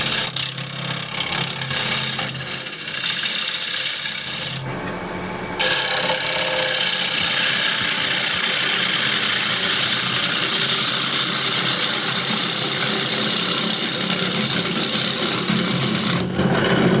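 A wood lathe spins a tray blank while a ball gouge cuts it, giving a loud continuous whirring rasp of tool against wood. A short break near the start and another near the end interrupt an otherwise steady, close cutting noise.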